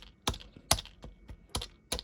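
Clicks of a fully 3D-printed keypad switch being pressed and released, five sharp, close taps at uneven intervals with a slightly harsh, unpleasant plastic character and quiet pauses between them.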